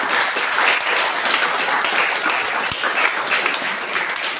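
Sustained audience applause at a readers' forum event: dense, steady clapping from a crowd that fills the whole stretch at an even, fairly loud level, with no voices on top.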